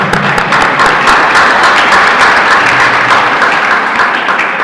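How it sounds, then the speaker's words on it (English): A crowd at a Janmashtami gathering in Durban, South Africa claps steadily and loudly, the dense patter of many hands sustained evenly throughout like heavy rain, with no talk over it. "Then you can clap."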